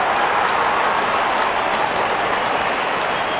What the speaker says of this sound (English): And there comes the celebration and the crowd loves it.